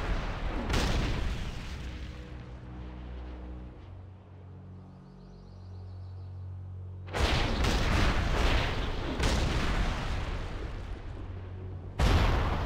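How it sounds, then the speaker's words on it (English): Fiery explosions blow orcs apart in World of Warcraft: a heavy blast rings out early, then a quieter rumbling stretch, followed by a loud run of crackling booms and one more sharp blast at the end, with no talking. "Did you see those orcs explode?"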